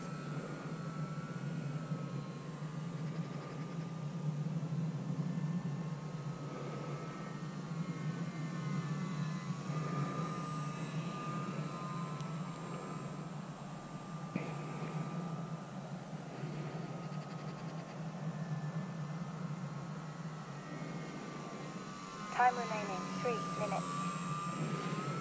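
Aircraft engine droning steadily from inside the cockpit as the plane sets take-off flaps, a low continuous hum that holds for the whole stretch with a brief bump near the end.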